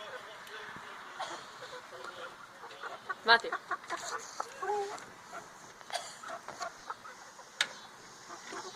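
Chickens cluck and squawk in short, scattered bursts around a yard, fairly close but not loud, mixed with people talking and calling out between the calls.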